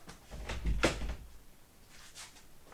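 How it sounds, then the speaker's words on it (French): A door is shut indoors, giving a soft scuffing movement and then a single dull knock as it closes. A fainter shuffle follows in a quiet room. "je vais fermer la porte"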